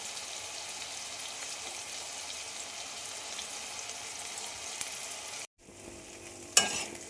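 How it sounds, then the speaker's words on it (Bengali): A spice paste of salt, turmeric, cumin powder and coriander powder is stirred and fried, making a continuous close sizzle. It cuts out briefly, then a single clatter sounds near the end. "মশলাটা কষানো তো আমার হয়ে গেল"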